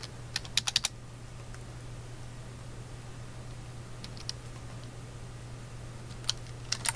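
Typing on a computer keyboard: short clusters of quick, faint key clicks separated by pauses, close and quiet over a low steady hum.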